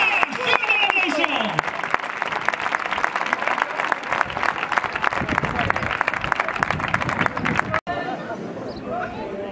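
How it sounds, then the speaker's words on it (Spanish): Dense crowd applause and clapping fills a bull-dodging contest in Masueco, loud and sustained with shouting mixed in, then cuts off abruptly near the end. "¡Fuerte el aplauso!"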